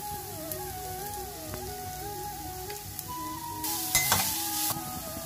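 Ridge gourd and bottle gourd peel fry in a pan with a steady, moderate sizzle. Scattered stirring taps run throughout, and the frying swells louder and brighter for about a second near the end.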